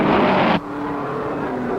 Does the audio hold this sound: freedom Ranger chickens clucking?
no